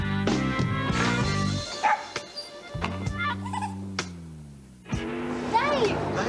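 A dog barks and yips several times in a beer commercial set in a pub, a guide dog being refused entry, the barks loud and close, mixed with voices and a thunk.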